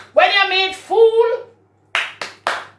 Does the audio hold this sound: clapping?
yes